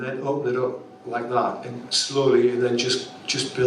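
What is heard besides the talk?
No everyday noise stands out behind the speech.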